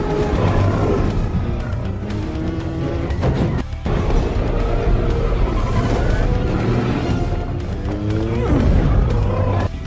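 Cars racing in a film chase scene from The Matrix, engines roaring continuously and loudly with tire squeals and a dense, busy mix of action sound throughout.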